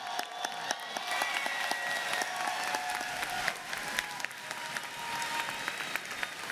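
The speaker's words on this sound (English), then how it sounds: "just give them one more applause, please" A large commencement audience at a college graduation gives steady, sustained applause, with a dense wash of clapping and occasional sharper claps heard from some distance.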